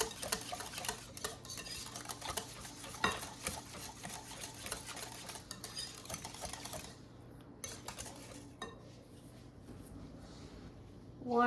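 Egg mixture for a lemon creme pie filling is stirred briskly in a pot, making quiet rhythmic scraping and light ticking clinks of a utensil that fade toward the end.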